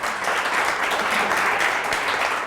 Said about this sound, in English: I'd just like to acknowledge Petra, to really give her a round of applause.